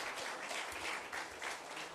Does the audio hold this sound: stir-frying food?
no